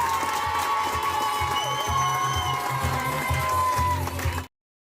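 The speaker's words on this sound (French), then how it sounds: "Je vous demande de l'applaudir encore une fois" Restaurant audience in Tourcoing applauding and cheering a staff member, with dense clapping and whoops close by that hold steady for about four and a half seconds before cutting off abruptly.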